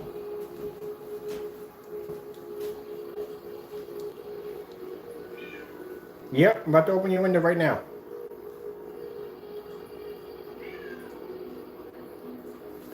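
A pet cat meows in a short burst of several cries close by, loud over a steady background hum, while a person talks nearby before and after.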